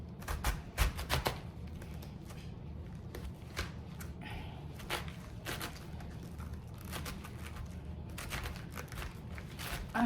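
A knife roughly chopping a head of cabbage into big chunks on a board, heard as irregular dull knocks and crisp cuts, fairly quiet and close, with no speech.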